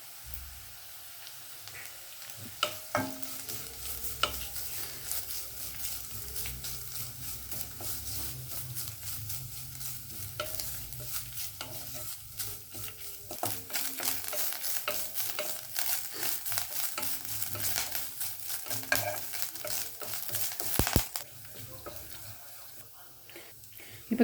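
Grated coconut fries in a pan for a Kerala-style raw banana and dal erissery, a steady close sizzle broken by repeated scraping stirs and clatters throughout, with no one talking.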